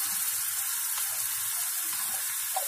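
Ginger garlic paste going into a frying chicken cutlet mixture in a pan, a steady bright sizzle and crackle with faint stirring scrapes, close and even throughout, no voices.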